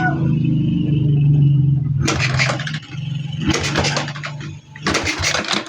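A Fury 125 motorcycle that suddenly won't start gets several electric-starter attempts; after a steady low idle-like hum, three bursts of loud whirring cranking follow, each ending without the engine catching.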